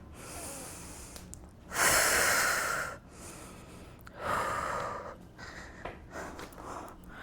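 Rhythmic exercise breathing during a leg workout for the inner thighs done without machines: two strong, forceful breaths in and out stand out over quieter, softer breaths.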